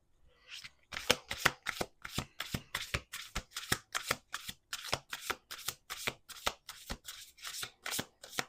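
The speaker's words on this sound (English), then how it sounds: "Let's do 2 more shuffles here." A deck of playing cards being shuffled at a table, a rapid series of crisp riffling bursts and taps in a quick irregular rhythm, close and clear with no talking.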